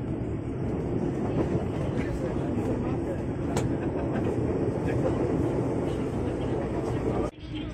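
A Tokyo Metro 6000 series KRL commuter train runs on the Rangkasbitung line beside the Jakarta–Serpong toll road, giving a loud, continuous rumbling roar heard close up from inside that dips briefly near the end.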